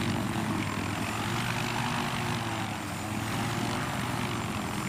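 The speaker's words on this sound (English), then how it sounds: "we can get the helicopter to spin about its central axis" A helicopter in the video game Battlefield 3 hovers and spins about its axis, giving a steady rotor and engine drone with a rhythmic chopping pulse, constant and fairly close, without talk.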